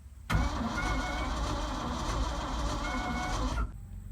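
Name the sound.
Ford F-600 truck engine cranking over and starting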